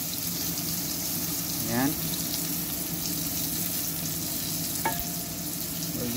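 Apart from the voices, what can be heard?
batchoy ingredients frying in oil on the stove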